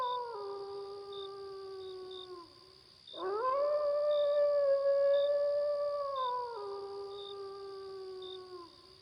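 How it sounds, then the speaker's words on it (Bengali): Two long, wavering jackal howls rise and fall, one after another, close and clear, while a steady pulsing chirp of crickets runs beneath. "চারদিক শিয়াল আর"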